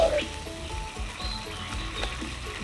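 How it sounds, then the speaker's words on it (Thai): Canned fish chili paste stir-fried in a pan, giving a low, steady sizzle with soft scraping strokes of a spatula. A faint voice sits underneath. "แล้วก็บี้แล้วก็ผัดให้มันแห้งๆนิดนึง ผัดให้หอม ๆ"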